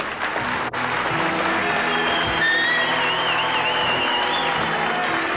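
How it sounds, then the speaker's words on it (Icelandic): Audience at a 1988 beauty pageant gives the contestants sustained applause, a dense steady wash of clapping that holds at an even level throughout. "Og við þökkum stúlkunum fyrir og gefum þeim gott klapp."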